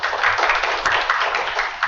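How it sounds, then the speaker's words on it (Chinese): An audience at a lecture on evidence implementation claps briefly, a dense patter of many hands that holds steady for under two seconds. "那我们就再次掌声谢谢 Craig"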